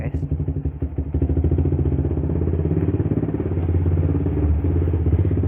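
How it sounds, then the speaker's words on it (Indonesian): A Yamaha Vixion motorcycle fitted with a long-type exhaust runs with a steady, fairly quiet mid-pitched engine drone while riding. Rough thumps sit at the start, and the engine holds a constant hum throughout. "Nggak terlalu berisik guys kalau knalpot yang tipenya long gitu guys."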